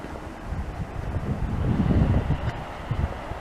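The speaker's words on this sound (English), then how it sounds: "you'll probably hear the wind a lot more." Cold wind blows hard across the microphone during an outdoor walk in the dark, a rough, gusty roar that swells and eases, close and loud with no talking.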